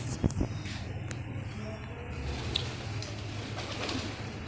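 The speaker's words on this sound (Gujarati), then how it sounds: "જુઓ વાવની અંદર કબૂતરો છે" Pigeons coo inside an old stepwell in Ode, Anand, Gujarat, a soft steady murmur of calls carrying through the reverberant stone shaft amid a busy background hum.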